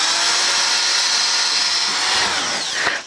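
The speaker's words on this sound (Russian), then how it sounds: "гвозди тоже большие, чтобы проще работать, и тоже сначала насверлю" Power drill boring pilot holes through 21 mm plywood flooring into a joist beneath, a steady loud whine running continuously for the whole stretch, then winding down briefly near the end.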